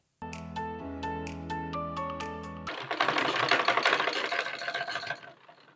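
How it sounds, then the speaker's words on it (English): A sewing machine stitches along the fabric edge of a gathered skirt with an elastic waistband, a dense rattling run that starts partway through after a stretch of tonal background music and stops abruptly near the end. "I'm sewing from the edge."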